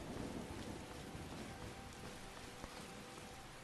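Steady rain pours down in a Skyrim night scene, a constant dense hiss with a low thunder rumble underneath and one brief crack near the end, close and continuous with no voices.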